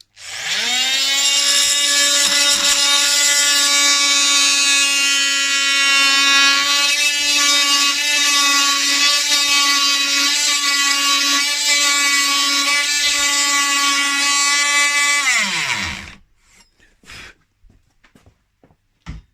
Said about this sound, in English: I'm going to start this cut off with the multi-tool, but it's very noisy